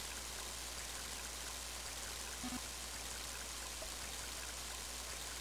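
Steady rain falls in the video game Mother 3, a constant soft hiss of water with a low electrical hum beneath and no other sounds.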